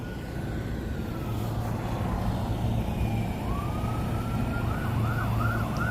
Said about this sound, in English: I hear sirens, so maybe they're on like code 911 or something.